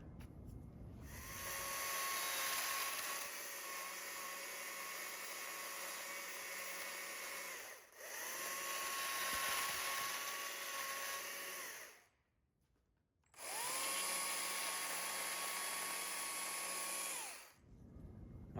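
Chainsaw carving the base and feet of a wooden owl sculpture: three sustained bursts of high, buzzing engine whine separated by short pauses, steady and fairly distant, with no talk.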